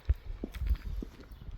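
Horses shift and step inside a US-built gooseneck trailer, giving irregular dull hoof thuds and knocks against the floor, moderately close, with no talk.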